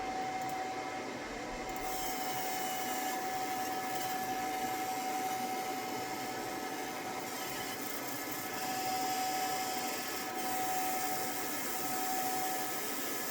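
A laser engraver runs another pass on a custom hat, giving a steady whirring hum with a constant whine and a faint fan-like hiss throughout, close and unbroken with no talking.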